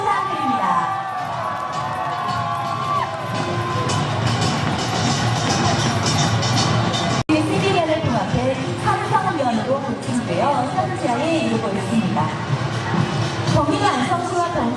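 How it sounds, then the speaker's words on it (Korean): Outdoor crowd at a county sports festival opening ceremony cheers and applauds for an athlete, a loud continuous roar of whoops, shouts and clapping with children's voices and babble mixed in throughout. "선수에게 큰 박수와 함성을"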